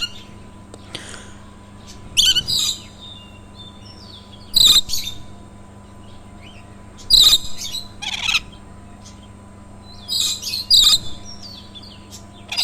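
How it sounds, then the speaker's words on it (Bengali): Several bursts of high, chirping bird calls come in clusters with pauses between them, set against a quiet steady background hum, at a small zoo in Mirzapur, Tangail. "এই পাখির কথা শোনাবো আপনাদেরকে"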